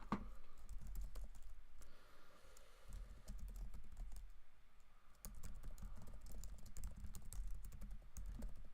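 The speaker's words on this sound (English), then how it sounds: "I don't know why I just type mode again" Quiet, rapid keystrokes on a computer keyboard click in continuous bursts with brief pauses, close but faint, with no talking.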